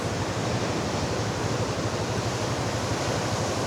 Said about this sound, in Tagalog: Kaso lang, galit yung alon dito.